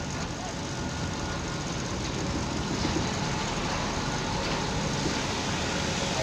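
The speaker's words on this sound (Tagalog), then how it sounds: "Oh, yun, traffic na nga." Steady, dense road traffic on a Saturday, cars, trucks and buses rumbling close by in a continuous broadband wash with no distinct pass-bys, moderately loud throughout.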